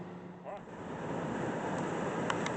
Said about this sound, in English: I hope you can hear me over the crashing waves